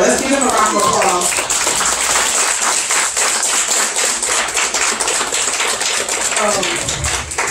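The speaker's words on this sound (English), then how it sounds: "Well, let's give them a round of applause." An audience at an entrepreneur panel discussion claps for the panelists, a dense patter of applause with some voices talking over it at the start and end.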